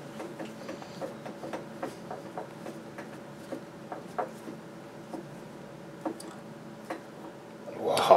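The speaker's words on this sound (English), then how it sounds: "We're just putting a thread on the very end of the drive shaft now." A thread is cut on the end of a homemade dump truck's rear-axle half shaft, giving faint, steady ticking clicks in an uneven rhythm against a quiet workshop background.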